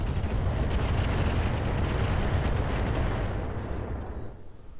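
Heavy weapon fire in the mech combat game Roguetech: a dense, sustained barrage of booming, rumbling shots that rolls continuously and loud before tapering off at the end, with no talk.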